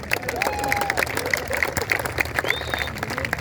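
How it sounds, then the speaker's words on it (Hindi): Audience clapping at an Urdu conference in Karachi, uneven bursts of hands mixed with room noise and a few tonal squeaks, moderately loud and close, with some voices underneath. "अगर आपके 2-2 हाथ है तालियां बजाएं"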